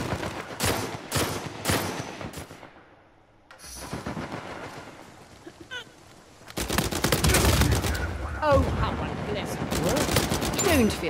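Bursts of gunfire in Uncharted 4, rapid automatic volleys close and loud, a brief lull, then dense sustained shooting, with players talking over the fire.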